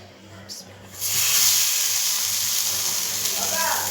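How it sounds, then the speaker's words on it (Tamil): Small seer fish hit a hot dosa pan and burst into a loud, steady sizzle that rises abruptly after a brief quiet moment, then keeps hissing and spitting in the oil. "தோசைக்கல் சூடானோடனே மீனை போட்டு பொரித்து எடுத்துடலாம்."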